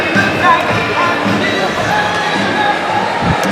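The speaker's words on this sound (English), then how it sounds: "Music's blasting, crowd is roaring on both sides" A packed crowd roars and cheers at a New Jersey high school ice hockey game between Kinnelon and Morris Knolls, a loud, dense wash of voices with thumps echoing through the rink.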